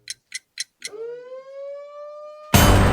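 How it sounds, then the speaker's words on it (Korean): At an air force academy training camp, four short beeps sound, then an emergency siren winds up into a steady, loud rising wail for over a second before a burst of broadband noise cuts in. "비상 사이렌이 울립니다."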